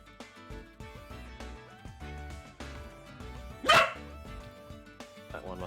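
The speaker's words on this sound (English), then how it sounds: "Patting the dog to prevent her from barking" A dog gives a single loud bark close by, sharp and brief, over a bed of steady game music.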